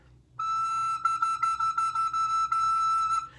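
A recorder sounds a high E with the thumbhole half covered: a clear, steady, pure whistle-like tone held about three seconds, slightly pulsed as if tongued in a few repeated notes, close and alone.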